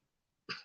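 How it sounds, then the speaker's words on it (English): A single short cough bursts out after a moment of near silence, close and abrupt. "Excuse me, I've got a wee bit of a bad cough."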